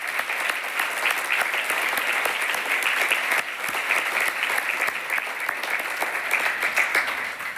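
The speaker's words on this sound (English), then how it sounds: "A round of applause to the medical student parents and their spouses." An audience at a medical school Match Day ceremony applauds the medical student parents and their spouses, with steady, dense clapping throughout and no talk over it.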